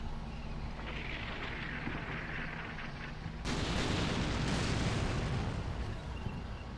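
Smoke grenades popping from a tank in the Combat Mission Black Sea game, a dense rumbling burst that swells at the midpoint into a sustained, loud roar over continuous battlefield noise.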